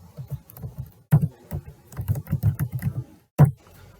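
Keystrokes on a computer keyboard in bursts of quick, close clicks with short pauses, loud and alone, while a terminal command is entered to start a React project.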